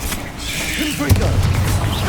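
A Confringo blast spell explosion in Hogwarts Legacy: a sudden booming impact midway through continuous rumbling combat noise, with a short voice just before it.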